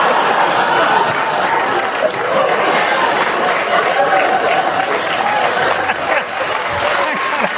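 A studio audience at a live late-night comedy news desk applauds steadily for several seconds, a dense, loud wash of clapping with some chatter and scattered chuckles mixed in.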